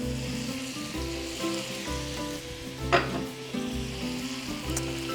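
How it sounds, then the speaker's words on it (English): Chanterelle mushrooms sizzle steadily in a hot pan for gravy during a cooking demonstration, a close, continuous frying hiss with brief stirring clatters and one sharper spatter near the middle. "So those chanterelles we're gonna cook for about 3 to 4 minutes."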